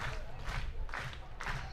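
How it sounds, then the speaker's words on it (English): A college baseball crowd at a Michigan Wolverines versus USC Trojans game cheers and claps in a steady, moderate roar, with rhythmic rises in the noise and background chatter. "Crowd getting a little into it now."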